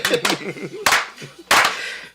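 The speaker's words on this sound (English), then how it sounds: "Stezo slow clap." A few isolated, spaced hand claps, loud and close, set apart by pauses in a slow deliberate rhythm, with brief murmuring voices between them.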